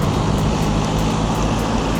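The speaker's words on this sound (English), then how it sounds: "There is so much traffic." Dense, steady highway traffic rumble fills the air, a constant wash of passing vehicles with no breaks or voices.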